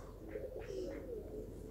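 Pigeons perched up high on an antenna coo softly and steadily, a low murmur that carries on through the whole moment with no speech over it.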